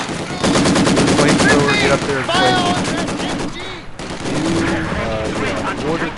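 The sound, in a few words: machine gun fire in Company of Heroes 2 video game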